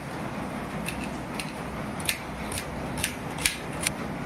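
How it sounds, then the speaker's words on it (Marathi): An onion is sliced with a knife on a board, producing a series of crisp, evenly spaced taps that grow a little firmer toward the end over a quiet background hiss. "आता आपण कांदा कट करून घ्यायचा"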